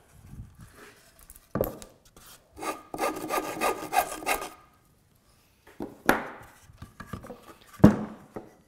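A woodworking rasp files at a wooden joint on a puzzle-leg coffee table, heard as close rough scraping strokes in short bursts separated by pauses, with one longer run of rapid strokes near the middle.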